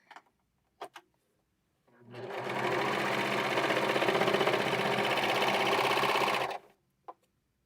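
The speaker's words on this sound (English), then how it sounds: "it sewed it, but it's not still making the chain" A self-threading serger sewing machine runs in one continuous whirring, buzzing stretch of a few seconds, bracketed by a few sharp clicks and taps before and after.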